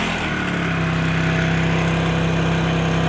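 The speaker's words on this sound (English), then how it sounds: "So the compressor just kicked on" An air conditioner compressor with a Microair Easystart kicks on under a generator's engine drone, and a steady tonal hum settles in within the first second and holds.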